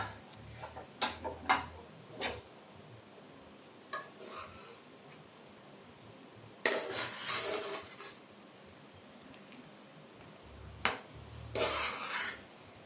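A pressure cooker of dal rice opened in a home kitchen, with sharp metallic clinks and taps of the lid and utensils in scattered bursts between quiet pauses.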